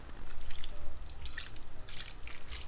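Beef broth is poured into a pot of Jamaican oxtail, giving close liquid splashing and dribbling in uneven bursts, with no talking.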